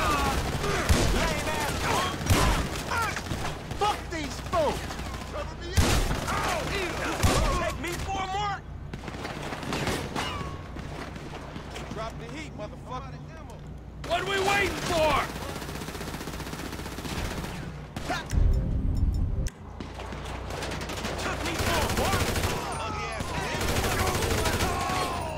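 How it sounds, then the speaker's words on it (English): Gunfire in Grand Theft Auto 5, a shotgun among it, comes as loud bursts and volleys spread across the stretch, with a voice talking over and between the shots. "Oh, snap, bring out the shotgun."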